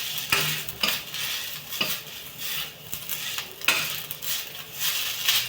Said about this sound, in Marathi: तुपात भाजून घेऊ आपण नरम होईपर्यंत एकदा